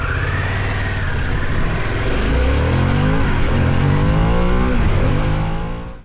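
A Harley-Davidson Pan America Special motorcycle engine revs and pulls through the mid-range and top end, a loud, rising, throaty roar that climbs steadily in pitch, then fades out at the very end.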